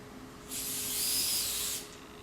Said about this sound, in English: So just going to spray this little guy